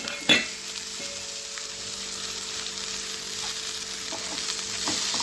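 Drumstick leaves sauté in oil with onions over a low flame, giving a soft continuous sizzle with a sharp clink near the start and a few light stirring taps, and no talking.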